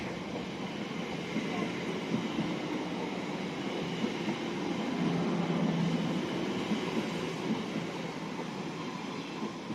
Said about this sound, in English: Departing now is the 13:23 service to Heathrow Terminal 4, running about 4 minutes late